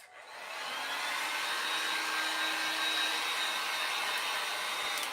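Hair dryer blowing on a craft project, a steady loud airy whoosh that ramps up within half a second and holds constant.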